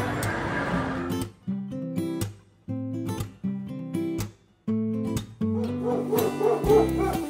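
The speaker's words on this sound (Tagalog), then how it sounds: "Yan, tumatahol na." A small dog barks and yips repeatedly in short bursts, fairly close, with brief whimpering between barks.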